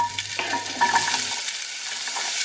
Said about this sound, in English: Basically just want to fry up all these ingredients and also cook the meat a bit